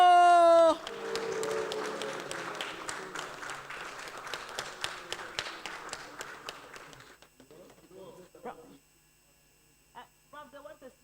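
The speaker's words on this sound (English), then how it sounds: "Can we all rise and give him a round of applause?" Conference audience rising to applaud in honour of Prof. Tuna at an academic association meeting, a sustained patter of clapping that thins and fades out, followed by a few faint scattered sounds.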